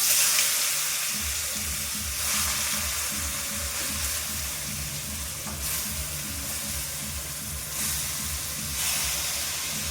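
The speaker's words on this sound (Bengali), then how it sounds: "এবারে কুচিয়ে রাখা গ্রেট করা লাউটা দিয়ে দেবো।" Grated bottle gourd (lau) dropped into hot oil already seasoned with dry red chillies and bay leaves, a steady close sizzle and crackle with occasional stirring scrapes, no voices.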